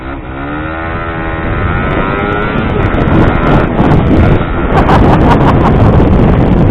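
A Suzuki GSX-R150 motorcycle engine with a racing exhaust revs hard and steadily on launch control, its pitch climbing early on, then crackles and pops rhythmically as it holds at high revs.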